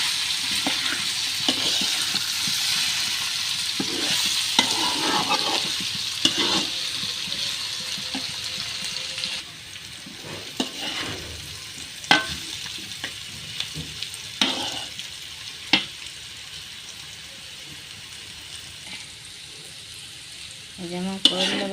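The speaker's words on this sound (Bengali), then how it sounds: "নেড়ে চেড়ে মিলিয়ে দিব" Salted bitter gourd (karela) frying in a pan, a steady sizzle under frequent spatula scrapes and knocks, louder early on and quieter later.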